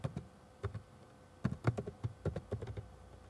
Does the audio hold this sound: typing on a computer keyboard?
yes